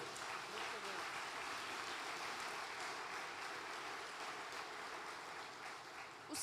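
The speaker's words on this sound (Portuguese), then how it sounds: "Dê um aplauso ao Senhor pela sua família." A church congregation applauds the Lord during a family-themed service: steady, dense clapping from a large crowd heard at a distance, continuing evenly for several seconds with faint voices mixed in.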